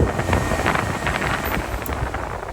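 A cab fan in a Polaris General UTV runs at full speed, a loud, steady rushing blast of air close to the microphone with no talk.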